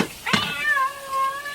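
A single cat meows loudly and close by, a drawn-out rising-then-falling cry lasting over a second, alone with no talking.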